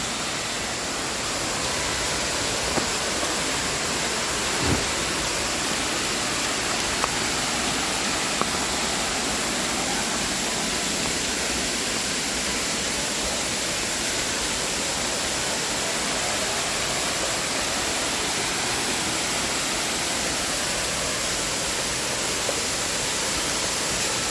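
The Sawan Noi waterfall in Mae Sariang roars as a steady, dense wash of falling water, loud and unbroken throughout with no voices.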